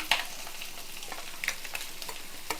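Boiled eggs frying with black pepper in a pan, a soft continuous sizzle with a few light spatula taps and scrapes, fairly quiet and close with no talking.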